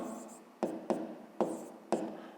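Pen writing a math expression on paper in short scratchy strokes, several quick taps and scrapes spaced about half a second apart, close and fairly quiet.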